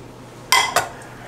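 Two quick metallic clanks ring out close by as a cooking pot is set down and handled in a kitchen, with a quiet room hum behind.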